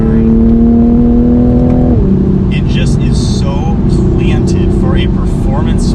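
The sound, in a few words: Toyota A90 Supra sports car driving fast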